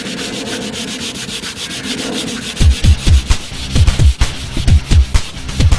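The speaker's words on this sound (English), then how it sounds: "use my 240 grit sandpaper and my block and just try and sand out this scratch" Hand sanding a scratch out of car paint with 240 grit sandpaper on a block: a smooth, even rasp at first, then rhythmic back-and-forth strokes, loud and close, with no talking.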